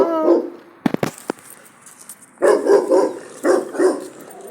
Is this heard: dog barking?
yes